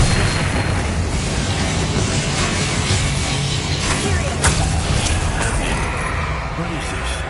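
An Expulso spell explosion in Hogwarts Legacy: a loud, sustained booming blast with crackling bursts that fills the clip, with game voices mixed in.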